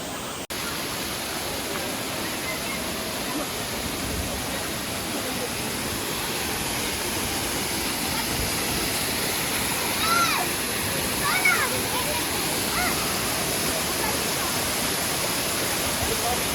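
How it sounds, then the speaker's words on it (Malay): A waterfall spills into a small pool near a village, making a steady, loud rushing roar that fills the whole stretch without pause, with faint voices under it. "Macam tu air terjun dia."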